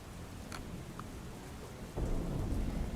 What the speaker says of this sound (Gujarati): અલગ અલગ જગ્યાએ અત્યારે હાલ વરસાદ વરસી રહ્યો છે